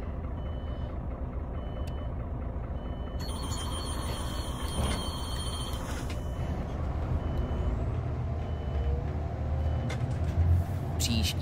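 Bus driving in the SIMT simulator on a replacement city bus line, with a steady low engine rumble throughout, a hiss of air brakes and a high beeping alarm in the middle stretch.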